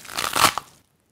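Celery stalk snapped as a foley bone-breaking sound: a brief close crunch with splintering crackles and a final sharp snap, then silence.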